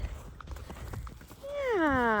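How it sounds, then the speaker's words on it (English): Horses in a snowy field give faint soft hoof sounds and then a rising whinny near the end, heard at a distance and fairly quiet. "See the horses."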